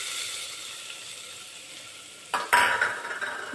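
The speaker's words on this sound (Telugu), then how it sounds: "అలాగే మనం తరిగి పెట్టుకున్న కొబ్బరి" Fresh grated coconut fries in a pan, a soft, steady sizzle near the mic that turns louder and busier when a stir scrapes through it toward the end.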